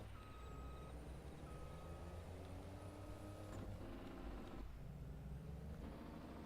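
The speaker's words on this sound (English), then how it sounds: "Yeah, I forgot the backup alarm goes." Truck backup alarm in Farming Simulator 22 beeping in a steady repeating pattern over the low rumble of a diesel engine, the pulses clear and fairly close.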